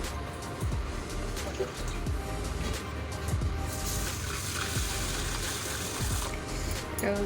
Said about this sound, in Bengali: গোবিন্দভোগ চাল দুবার জল পাল্টে ধুয়ে নেব